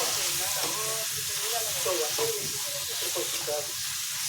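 Chicken kheema frying in a pan gives a steady, close, even sizzle with soft stirring scrapes throughout.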